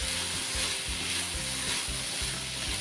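Mixed vegetables of five kinds, seasoned with about one and a half spoons of homemade spice mix, are stirred in a hot pan for a traditional Wadval dish; a steady, loud sizzle continues throughout with scraping stirs.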